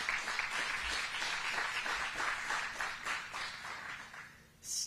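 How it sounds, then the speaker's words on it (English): An audience at a groundbreaking ceremony for a women's correctional facility applauds, a dense, steady wash of many hands clapping together for several seconds. It tapers off slightly near the end before a brief final burst. "Let's give them another hand clap."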